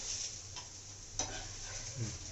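Dosa batter cooks on a hot pan, giving a steady, even sizzling hiss close by, with a couple of faint ticks and pops over it.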